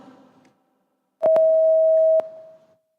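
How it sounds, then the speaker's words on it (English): A single sustained electronic buzzer tone sounds for about a second, clean and loud, starting with a couple of clicks, after a brief murmur of voices. "We want to, Barbara, can I hear the sound of your buzzer?"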